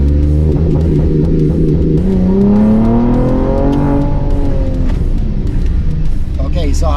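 A Ford Explorer ST launches in second gear at about 20 mph with rolling anti-lag, its engine rising in loud, close revving that climbs in pitch and sustains over a rumbling low end, with a voice briefly heard.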